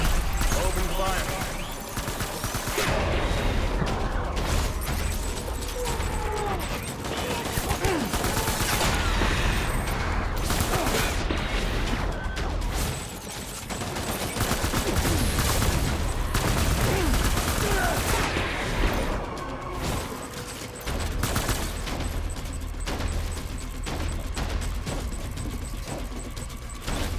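Sustained gunfire in the video game Death Stranding, dense bursts of shots over a continuous roar of combat noise, loud and busy for the whole stretch, with voices breaking in at times.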